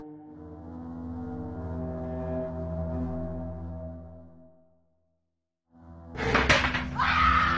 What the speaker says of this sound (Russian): дверцы шкафчиков захлопываются